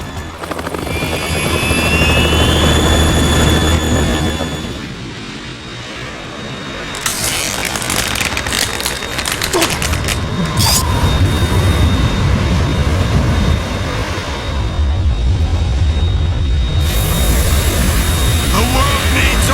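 A Harrier jet in the video game Metal Gear Solid 2 gives a loud, sustained turbine roar with a high whine, interrupted by sharp bursts and surges, while voices speak over it.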